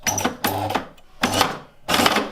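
A sewing machine stitches a custom gear stick shift boot in four short, close bursts of rapid mechanical clatter separated by brief pauses.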